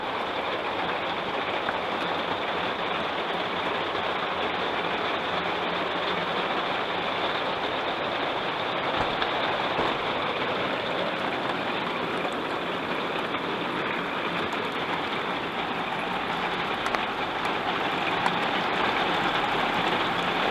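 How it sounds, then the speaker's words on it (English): Heavy rain pours onto the roof of a TrailManor camper trailer, heard from inside as a dense, unbroken roar that holds loud and even throughout. "I guess it's raining pretty good now."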